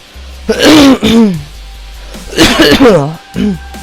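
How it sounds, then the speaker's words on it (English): A person clears their throat and coughs in two loud, rough bursts close by, with a short pause between them. "Sorry, I have a cough."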